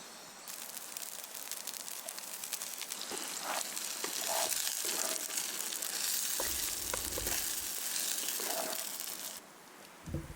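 Eggs frying in hot bacon grease in a pan at a remote mountain lake campsite, a loud, continuous crackling sizzle with occasional spatters and pops, no talking.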